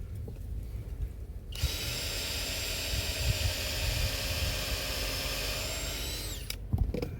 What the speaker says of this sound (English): take this out, drill it.